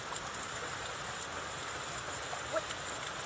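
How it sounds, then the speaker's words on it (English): Rain played as a sound effect in a children's listening game, a steady hiss of falling drops and light patter on surfaces that continues evenly for a few seconds with no talking. "That was the sound of rain."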